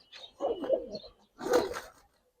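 Pigeons coo in two short, close bursts of throaty rolling calls separated by a brief pause, with no talking.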